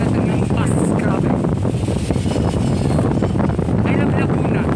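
Strong wind gusts steadily across a microphone beside Laguna Lake, a loud continuous rushing roar with no break.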